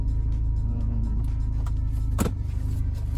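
Tuned Audi A4 B7 with a stage 1 tune driving on a snowy road after a week of snowfall, a steady low engine and road drone heard from inside the cabin, with a brief mechanical clunk partway through.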